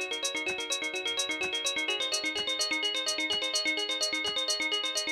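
A Novation Summit synthesizer plays a fast, steady chiming arpeggio of bright bell-like notes with a ringing, resonant tail, continuous and alone without voices.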